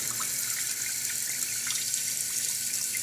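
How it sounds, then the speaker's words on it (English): A kitchen faucet runs in a steady, even hiss, close and continuous throughout, with no voices. "Just turning my faucet on."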